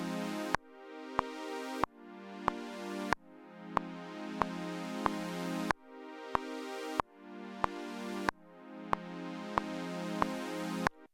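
A sustained chord-like chorus synth pulses in repeating blocks alongside a steady click track, with sharp regular ticks marking each beat, loud and alone without voices.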